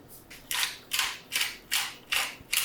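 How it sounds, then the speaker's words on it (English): Pepper mill grinding black pepper with six or so evenly spaced crunchy bursts of grating, close and fairly loud, with no voices. "freshly cracked black pepper"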